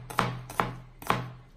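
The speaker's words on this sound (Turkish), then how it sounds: "Bir adet de ufak soğan doğrayacağım." A knife chops a small onion on a cutting board, three sharp, evenly spaced cuts with no talking.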